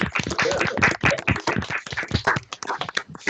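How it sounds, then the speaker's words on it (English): Scattered, uneven hand claps from virtual meeting participants at an online Azure user group, individual claps arriving irregularly through separate microphones rather than as one blended applause. "I don't know if everybody wants to come off mute and give Scott a round of applause"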